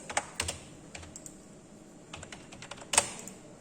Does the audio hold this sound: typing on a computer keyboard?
yes